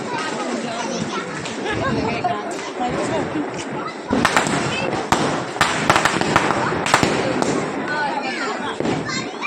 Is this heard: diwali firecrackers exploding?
yes